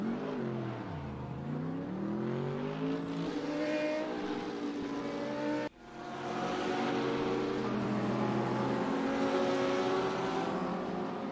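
An Audi race car engine in RaceRoom Racing Experience, driven in VR, revs and shifts through gears near the grass at turn 1, a loud continuous whine with rising and falling pitch sweeps and a brief dip midway.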